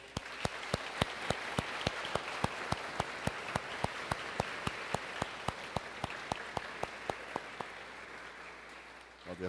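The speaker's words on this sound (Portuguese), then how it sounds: "com uma grande salva de palmas" A church congregation at Sunday Mass gives applause heard as a steady, evenly spaced run of claps, fairly quiet and continuous for nearly ten seconds before tapering off.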